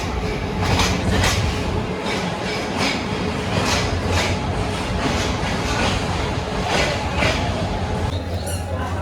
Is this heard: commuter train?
yes